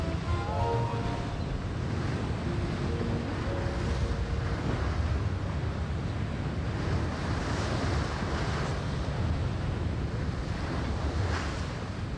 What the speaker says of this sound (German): Wir haben heute leichten Seegang.